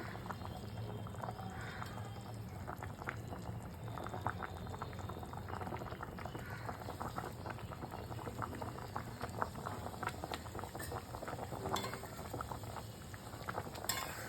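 Bengali sour fish curry with raw mango and roasted five-spice bubbling in a pan, a steady close boil with popping bubbles and an occasional faint clink, no voices.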